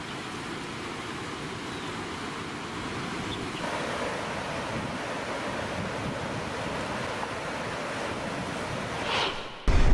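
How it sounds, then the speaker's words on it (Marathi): Water roars through the open gates of Vishnupuri dam on the swollen Godavari river in Nanded, a loud, continuous rushing wash with wind buffeting the microphone. "या दरवाजातून पाण्याचा मोठ्या प्रमाणात विसर्ग सुरू करण्यात आलेला आहे"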